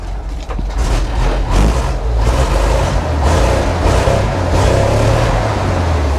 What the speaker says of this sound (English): Let me go rev it up.